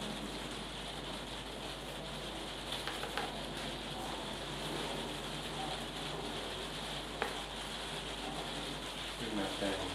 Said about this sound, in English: Probably the sound of the rain on the roof.